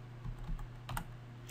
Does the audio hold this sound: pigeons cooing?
no